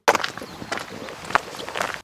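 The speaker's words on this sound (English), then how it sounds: "I recorded myself walking on gravel," Crunching footsteps on loose gravel, about one step every half second, close and fairly quiet, with no talking.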